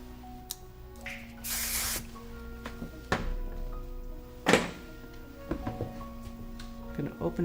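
A short hiss of dry texture hair spray around the two-second mark, with quieter handling clicks and taps before and after.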